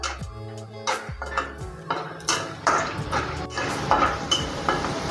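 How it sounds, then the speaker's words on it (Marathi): Peanuts drop into hot oil in a pan for rava upma, with a clatter of nuts and utensil against the metal, then a light sizzle and scattered stirring knocks, close by. "आता आपलं तेल चांगलं गरम झालेलं आहे, त्यात टाकूया शेंगदाणे।"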